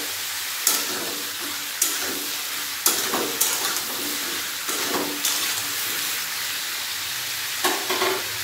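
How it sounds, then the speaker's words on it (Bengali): Salt being stirred into bottle gourd sizzling in a pan, with a continuous fry hiss broken by repeated spoon scrapes and knocks against the metal at an uneven rhythm. "লবণ ভালো করে মিশিয়ে নিলাম লাউয়ের সাথে।"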